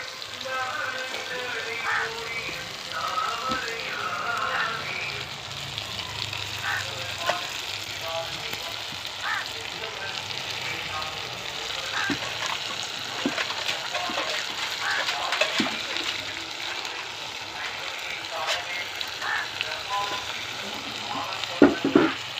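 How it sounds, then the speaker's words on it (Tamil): Velai keerai greens and chopped brinjal frying in a hot pan, a steady moderate sizzle with occasional stirring scrapes and soft clinks running throughout, close up and continuous with no voices. "எல்லாம் போட்டு நல்லா வதக்கிக்கலாம்"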